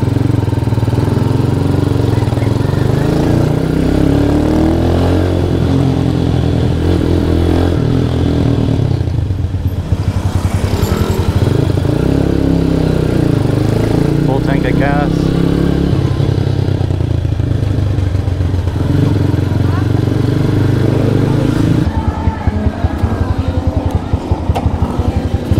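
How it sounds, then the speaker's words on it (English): A motorcycle riding along in second gear, its engine droning loud and steady with wind rush throughout, and a rider talking faintly at times under the noise. "Just ride around in second gear, much better now."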